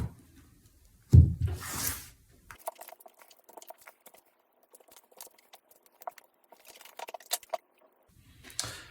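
A deck of tarot cards is shuffled up close, with a brief loud riffle of cards followed by soft, scattered taps and slides as the cards are handled quietly.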